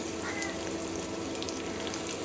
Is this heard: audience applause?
no